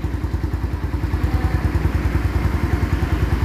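A rebuilt Honda Phantom motorcycle engine runs steadily up close, with a loud, even low-pitched throb and rapid regular pulses and no speech over it.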